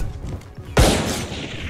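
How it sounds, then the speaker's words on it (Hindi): A sudden loud burst of gunfire in the video game Valorant, a sharp crack followed by a short rattling tail that fades over the next second, heard alone without talk. "अब तो पहले ही गोली चला दी।"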